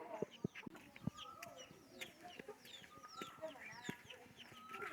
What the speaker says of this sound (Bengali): এহে, মুরগি পাওয়া গেছে।